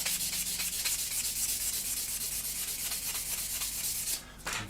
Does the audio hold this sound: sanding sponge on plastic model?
yes